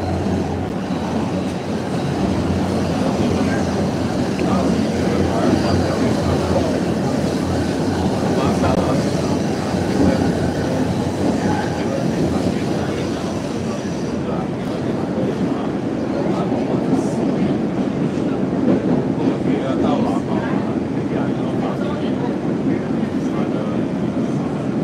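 An MBTA Red Line subway train rumbles steadily and loudly through the whole stretch, broadband rail noise with wheel and motor roar, while a voice talks faintly beneath it.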